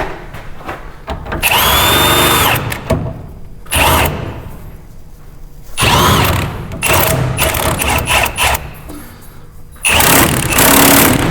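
Welding in a home garage while working on a 1968 Plymouth Satellite: loud bursts of crackling, buzzing arc noise come in several separate runs of one to two seconds, with quieter gaps between them.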